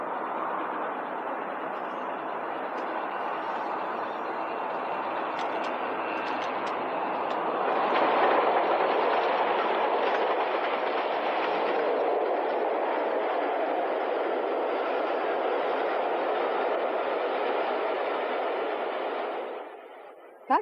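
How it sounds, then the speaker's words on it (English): Steady, loud rumble of the preserved steam locomotive Bahamas hauling a mainline excursion train, a continuous roar that swells slightly midway and fades out at the end, with no voices. "Bahamas is a popular and well-used loco on mainline excursions and should see services for some time to come."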